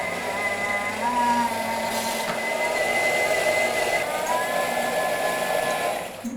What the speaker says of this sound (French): tu vas mixer pendant 3-4 minutes pour que ça soit vraiment tout lisse